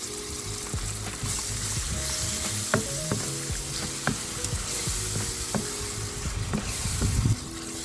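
Classico rosé pasta sauce hits hot pasta and sweet peppers in a pan and sizzles steadily and close, with frequent scraping and stirring knocks from a utensil.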